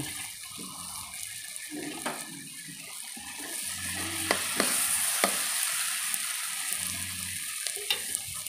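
Chicken liver seasoned with pepper sizzles in a pan while being stirred, a steady, fairly quiet frying hiss broken by occasional scraping clicks of the utensil.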